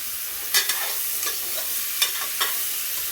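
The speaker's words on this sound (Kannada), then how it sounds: "ಮಶ್ರೂಮ್ನ ಎಣ್ಣೆಲಿ ಚೆನ್ನಾಗಿ ಫ್ರೈ ಮಾಡ್ಕೊಳ್ಳೋಣ" Mushrooms fry in oil over onions, a loud hissing sizzle with several distinct scraping strokes of a stirring spoon, close up and without speech.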